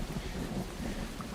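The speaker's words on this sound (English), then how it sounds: "it just starts bucketing rain on our Recon ride here" Rain and thunder weather effect in the Zwift cycling video game, a dense steady hiss of heavy rain with a low rumbling undertone, continuous and moderately loud.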